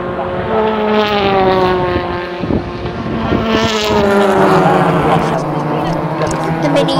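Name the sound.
BTCC touring cars racing past at Thruxton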